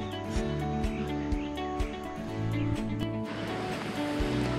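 A river flows along a farm's boundary in San Francisco, Cundinamarca, its clean, clear water making a steady broadband rush. Tonal background music runs underneath for nearly five seconds.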